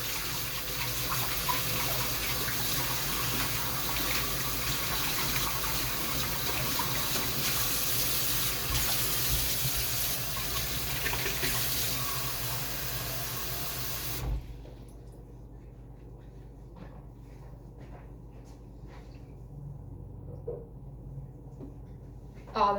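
Water gushes steadily from a tap for about fourteen seconds, then cuts off, leaving a quiet room with faint small sounds.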